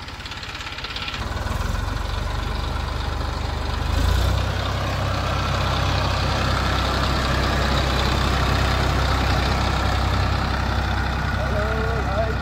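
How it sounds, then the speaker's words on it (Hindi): A tractor runs steadily nearby in a rural Indian farm setting, a continuous low diesel rumble that rises slightly after a few seconds and holds, with faint background noise. "ट्रैक्टर को वहाँ उस तरफ ले जाएंगे और वापस लेके आएंगे"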